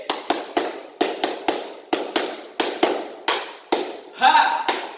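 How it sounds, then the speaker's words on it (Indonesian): A group performs the Hizbul Wathan scout clap, a series of sharp, loud hand claps in a set rhythm with short groupings and pauses, followed by a brief voiced shout near the end. "Jika ada yang mengucapkan tepuk HW, jawabannya seperti ini ya."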